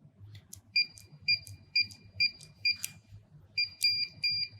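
A run of short, high electronic beeps from a USAutomatic wireless keypad, repeating steadily over a low background hum.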